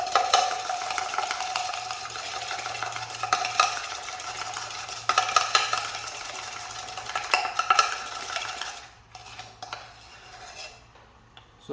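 Sugar and espresso being whipped into a thick, meringue-like paste for Cuban coffee, with a spoon clinking and scraping steadily against the cup, close and fairly loud before thinning out near the end.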